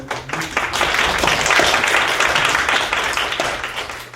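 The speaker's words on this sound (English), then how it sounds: "I assume you're applauding for Mike" A lecture audience applauds its host, a loud, dense wash of many hands that swells and holds steady, then starts to thin toward the end.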